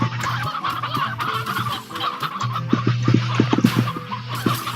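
Game hens clucking in a crowded coop in Slime Rancher, a busy flock of overlapping clucks and squawks that grows denser toward the end, with no talk.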